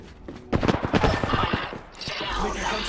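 Rapid bursts of automatic gunfire in the Apex Legends battle royale, a dense crackling volley of close shots that trails off into lingering game ambience.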